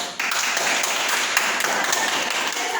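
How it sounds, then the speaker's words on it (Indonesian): A classroom group claps hands together, a dense, steady patter of many close claps lasting a few seconds. "Oke, tepuk tangan dulu."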